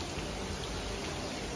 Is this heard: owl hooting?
no